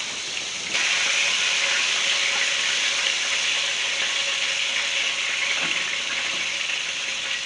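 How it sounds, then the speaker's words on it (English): Steady broadband water from a kitchen tap runs continuously while hands are washed, starting abruptly and holding an even, close hiss throughout with faint clinks underneath. "Let me wash my hands."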